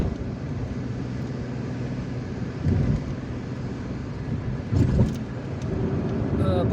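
A car driving along a motorway bypassing the town of Issers, Algeria, with a steady broadband road and engine rumble from inside the vehicle and a couple of brief swells as traffic passes, with a voice speaking over it.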